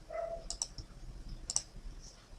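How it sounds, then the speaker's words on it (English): An F4 key is pressed on a computer keyboard while working in 3ds Max: faint, close clicks in two quick pairs about a second apart, over a quiet room background. "We can do that by pressing F4 on the keyboard"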